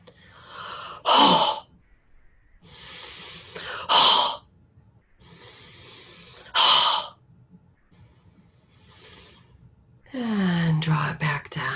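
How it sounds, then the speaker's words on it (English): Three heavy, forceful out breaths in a guided breathing exercise, each a loud rushing exhale about every two to three seconds, separated by quieter breathing, with a voice speaking briefly at the end. "we're going to do an exercise of releasing that with a heavy out breath"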